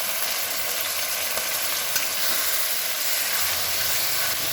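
Masala with onion paste and slit green chillies sizzles in a pan for Bengali prawn dopiaza, a steady, close, bright frying hiss with faint stirring scrapes and no talk.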